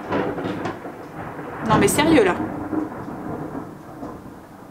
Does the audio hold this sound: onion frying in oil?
no